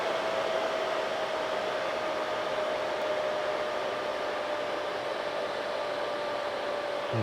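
Loud, steady whooshing of a small manicure dust extractor fan running continuously, with a faint constant motor whine and no talking.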